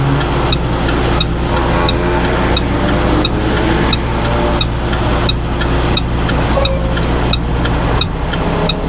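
A Kenworth semi truck with its tandem slid forward on the trailer drives through downtown Tullahoma, Tennessee, giving a steady low engine drone from inside the cab, with regular light ticking clicks repeating over the rumble.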